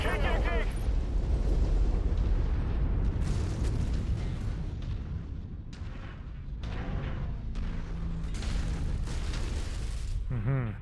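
A destroyed Locust mech blowing up in MechWarrior 5 Mercenaries: heavy rumbling booms and sustained explosive roar filling the whole stretch, with sharper bursts and a synthetic voice speaking over it.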